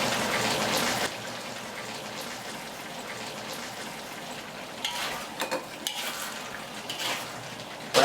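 Beef and potatoes sizzle in a wok over high heat while the sauce reduces, giving a steady close frying hiss with occasional scraping stir strokes and bubbling. No one speaks.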